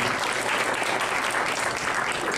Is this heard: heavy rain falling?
no